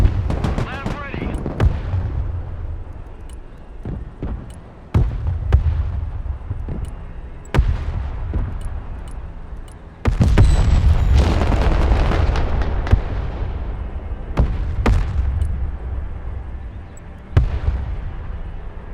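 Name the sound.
gunfire and artillery fire in the video game Broken Arrow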